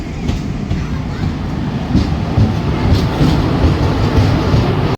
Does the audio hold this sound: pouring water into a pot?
no